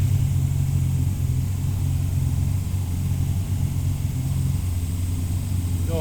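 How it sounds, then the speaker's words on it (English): A car engine idling at about 900 RPM with a dieseling problem, a steady low rumbling hum close by that holds even throughout with no talking. "So it's idling at about 900 RPM, and I want to drop that a little."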